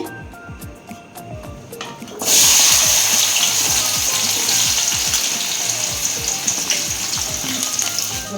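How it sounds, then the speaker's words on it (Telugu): Sliced onions drop into hot oil and burst into a loud, steady sizzle that continues for several seconds, following quieter ticking and crackling from the heated pan beforehand. "ఆయిల్ వేసుకున్నాము ఇప్పుడు ఉల్లిపాయలు వేసుకుందామండి"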